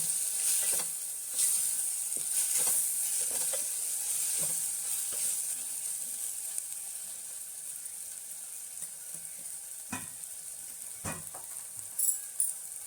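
Finely chopped okra goes into a hot pan with a steady, moderately loud sizzling hiss, broken by a few stirring scrapes and clicks near the end.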